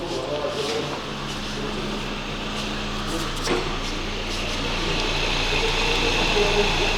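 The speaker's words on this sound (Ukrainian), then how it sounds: "Це мотор працює?" An aging Toyota Camry 30 engine with high mileage runs steadily, a low idle hum with a faint hiss on top, heard up close and unbroken throughout.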